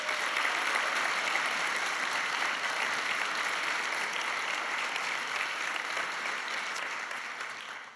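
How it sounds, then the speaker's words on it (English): An audience at a case competition final applauds the participants, dense sustained clapping from a large crowd that carries steadily and tapers slightly at the end. "So let's give them all another round of applause."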